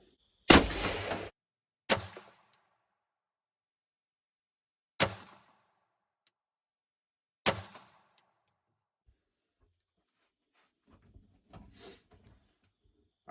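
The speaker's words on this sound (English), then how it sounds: "These are going to be the first rounds fired through the gun since I've got it back from Ruger." Ruger SFAR rifle firing a four-round group at a range, four sharp separate reports spaced a few seconds apart, loud and close, each followed by a short tail and quiet gaps.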